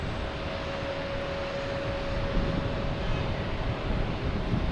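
A Porter airliner arrives from Toronto at Boston Logan Airport, heard as a steady, moderately distant engine rumble and broadband roar with a faint whine, holding evenly throughout without voices.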